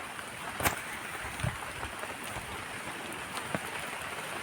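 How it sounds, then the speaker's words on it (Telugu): Steady rain falls outdoors beside a small fire roasting custard apples, a dense even hiss with a few faint knocks and taps on top, no voices. "వర్షం పడుతుంది"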